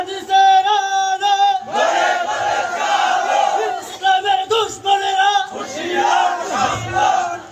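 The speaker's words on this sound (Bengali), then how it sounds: "নারায়ে তাকবীরের স্লোগান, এই স্লোগান মুসলমানের স্লোগান।" A large crowd at a rally chants the Naraye Takbir slogan, loud massed voices rising in rhythmic bursts with short breaks between shouts.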